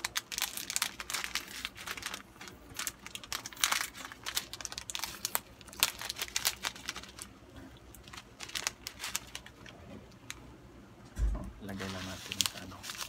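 A ginger tea sachet is torn open by biting, giving repeated close crinkling and tearing of the packet in bursts over several seconds while a person talks.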